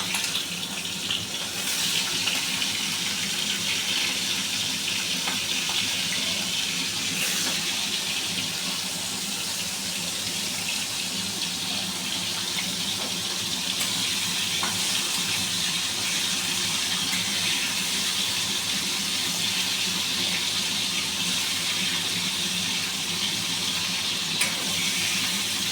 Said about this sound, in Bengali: প্রথমে আমি চিংড়ি মাছটাকে এই কড়াইতে সরিষার তেল দিয়েছি 4 টেবিল স্পুন।